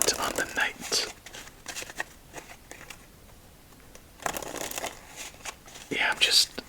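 Playing cards are shuffled for ASMR solitaire. Soft riffling and crinkly card bursts come close and quiet, in two clusters separated by a lull, with faint whispering.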